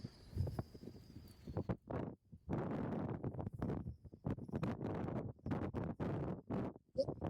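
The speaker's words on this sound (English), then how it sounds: "That wind has picked up a bit." Strong wind buffets the microphone in loud, rumbling gusts that rise and drop, with a faint whine early on, on the Norwegian shore while fishing.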